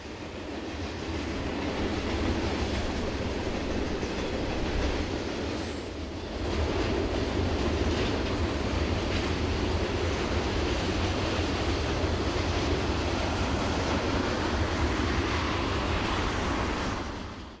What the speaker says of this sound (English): This eastbound is a run-through from the Union Pacific.